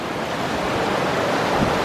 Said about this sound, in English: The river is raging